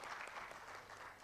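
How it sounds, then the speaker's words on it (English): An audience applauds at a memorial engineering lecture, a brief, faint patter of many hands clapping together with no voices over it. "A round of applause for him."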